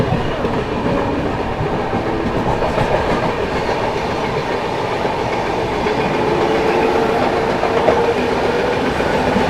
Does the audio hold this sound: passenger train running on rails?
yes